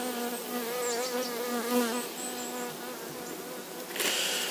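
Honey bees buzzing around an open beehive during an inspection: a dense, close, wavering drone of many wings with harmonics rising and falling, no voices.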